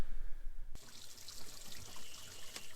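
Garden hoses filling a metal stock tank hot tub, a steady hissing splash of running water close by after a brief low rumble at the start.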